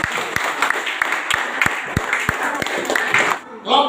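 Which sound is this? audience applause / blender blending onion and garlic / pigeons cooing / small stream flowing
audience applause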